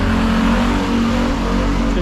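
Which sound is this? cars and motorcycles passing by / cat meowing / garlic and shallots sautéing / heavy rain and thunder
cars and motorcycles passing by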